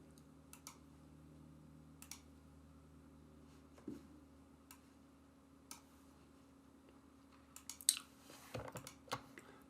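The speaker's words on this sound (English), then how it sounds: "It allows you to type them straight in." Dates being typed on a computer keyboard in a quiet room: scattered, sparse key clicks that cluster into a quicker burst of taps near the end, with a faint steady hum underneath.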